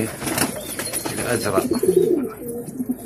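Pigeons coo at a bird market where birds are offered for sale, low soft coos repeating amid crowd chatter and someone talking nearby throughout.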